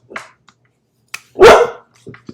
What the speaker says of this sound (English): my dog was trying to put her 2 cents into this lecture as well